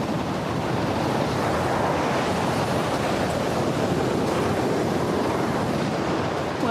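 A wind tunnel runs at its top speed, roughly equal to a Category 1 typhoon, producing a loud, constant rushing roar of broadband wind noise that holds steady throughout without any talk.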